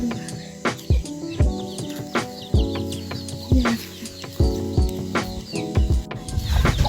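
A hen clucks in a village yard with short, repeated clucks and chirpy calls in an uneven rhythm, fairly close and alone, with other birds faintly around.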